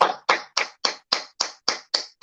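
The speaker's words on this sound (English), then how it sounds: "a round of applause" Eight crisp, evenly spaced hand claps ring out alone on a morning radio show, each a sharp close slap with a short decay, keeping a steady rhythm of roughly three and a half claps per second.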